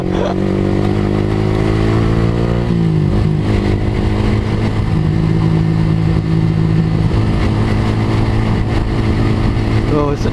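A motorcycle fitted with a loud open aftermarket exhaust (knalpot brong) is revved hard, with a dense steady engine roar that rises in pitch around the middle. Voices can be heard talking underneath it.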